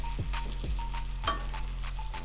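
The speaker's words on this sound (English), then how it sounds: "So I'm going to stir fry it for some time." Tomatoes stir-fry in a pan for butter chicken, with a steady low sizzle and a few soft, rhythmic scraping strokes of the spoon, close and fairly quiet.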